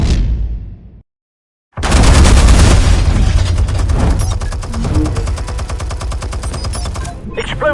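Explosive charges go off in a Batman video game. A deep, loud blast erupts after a moment of silence and rumbles on under continuous crackling, rapid impacts.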